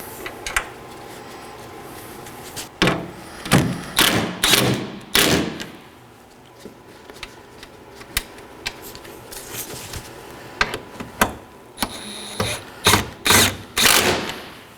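A ratchet tightens two 10mm bolts on the engine splash shield of a 2013-2019 Nissan Sentra, giving bursts of rapid close clicking in two groups separated by quieter handling and a few thumps.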